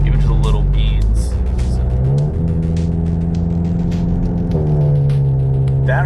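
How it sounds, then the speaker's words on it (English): A VW MK7 GTI fitted with a Borla S-Type exhaust does a flyby, its engine revving loudly with a rising tone through a gear change, close and dominant, with a voice briefly speaking over it. "You have to let me give it a flyby."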